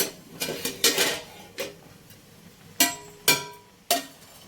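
A metal lid lifted off a pot of rasgulla cooking on a gas stove, with a few sharp clanks and rattles spread over several seconds, close and fairly loud, with no talking.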